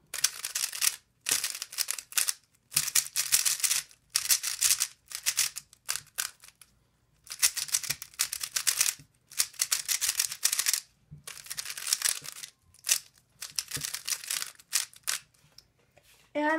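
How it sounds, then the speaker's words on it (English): Yuxin Little Magic M 3x3 speed cube being turned rapidly, bursts of close, bright plastic clacking and rattling in quick flurries separated by brief silent pauses. "Sound comparison, Yuxin Little Magic M."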